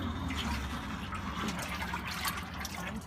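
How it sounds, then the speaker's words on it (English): Water gushes steadily into a toy watering can, a continuous burbling fill heard up close with no talking. "Upsy Daisy's gonna fill her watering can and water her plants"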